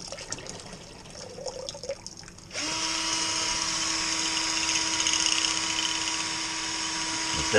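Quiet clatter gives way to a steady, loud whirring drill motor with a sloshing, watery hiss as the drill-powered bottle cleaner spins continuously, cleaning mead bottles.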